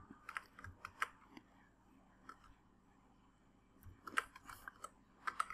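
Quiet clicking on a computer keyboard while a folder name is typed: a short run of keystrokes at the start, a pause, then another brief flurry near the end, all faint and close.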